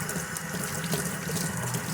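Cold water runs steadily from a tap into a sink while a lamb milk-replacer mix is prepared, a continuous close splashing rush with no pauses.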